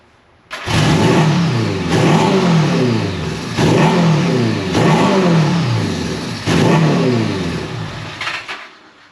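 A 1975 Honda Goldwing 1000cc motorcycle engine churns on the starter and fires, surging loudly in repeated rising revs roughly every two seconds before cutting out near the end, close by with no talking.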